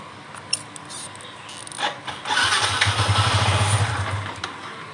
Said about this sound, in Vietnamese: Rồi giờ mình để mình nổ máy lên